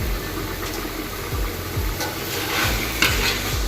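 Spices and lentils for vegetable khichuri sautéing in a pan, a soft continuous sizzle with rhythmic stirring scrapes, near and moderately quiet, no talk.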